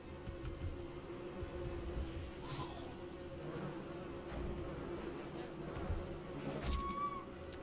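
Swarm of bees buzzing in a forest at night in a single-player adventure game, a dense continuous drone with game sounds and effects layered over it.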